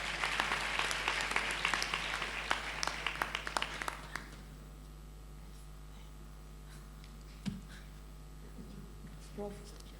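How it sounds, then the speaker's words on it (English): Applause at a university congregation ceremony in Ghana, a crowd clapping densely for about four seconds before it quickly dies away, leaving a low hum with scattered faint sounds. "Please let the applause go higher."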